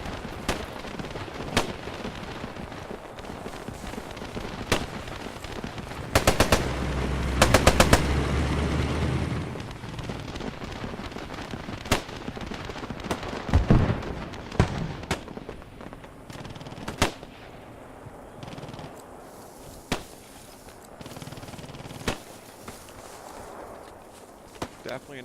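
Machine gun fire in the World War II shooter game Post Scriptum, with repeated sharp bursts of varying distance and a loud close volley in the middle, over running footsteps.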